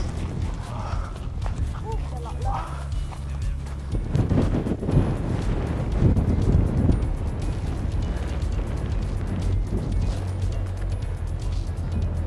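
Strong wind blasting across Iceland's black sand beach, where blowing sand strikes hard, roars steadily and buffets the microphone in a dense, continuous rumble that swells midway, with faint voices underneath.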